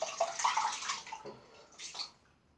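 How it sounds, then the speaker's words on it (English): Water splashes and runs over hands being rinsed after a wet shave, a short burst of loud splashing that fades, then a brief second splash before trailing off, close by with no talking. "I'll just say, rinsing my hands."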